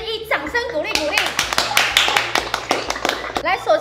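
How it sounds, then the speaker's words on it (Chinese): An audience applauds at a sports event honouring Olympic athletes: a run of close, sharp claps builds over the middle of the clip, with a voice speaking at the start and again at the end. "掌声鼓励鼓励"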